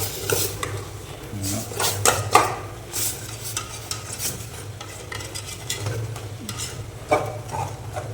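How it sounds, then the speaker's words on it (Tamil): Chicken sautéing in oil in a pan for a leg-chicken kulambu, with a steady low sizzle under scattered scraping and clinking of a spoon against the pan, several sharper knocks standing out. "எண்ணெயில் கொஞ்சம் வதக்கும்."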